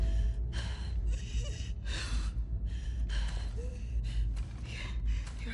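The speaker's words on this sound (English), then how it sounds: "Your breathing's worse." Heavy, labored breaths from a wounded character in The Last of Us Part 2, a series of rasping inhales and exhales in an uneven rhythm, close and fairly loud with no talking.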